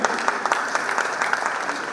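Conference audience clapping steadily at a drone technology training event, a dense, even patter of many hands filling the room for the whole stretch, with no voices over it.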